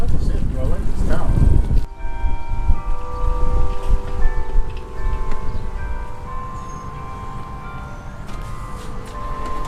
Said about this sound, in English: Just listening to the bells in the background.